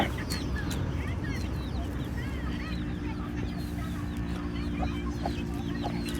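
Chickens cluck and chicks peep continuously in the background over a steady low hum, with scattered chirps throughout.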